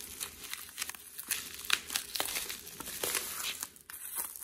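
Wrapping paper around a Louis Vuitton agenda box crinkles and tears as it is pulled open, giving a busy run of close, fairly quiet rustles and crackles with no talking.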